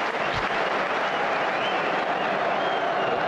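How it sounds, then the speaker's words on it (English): Crystal Palace football fans in a Premier League stadium applaud and cheer, a dense, steady crowd roar with clapping that stays loud and even throughout. "The Palace fans applaud and then cheer it like a goal."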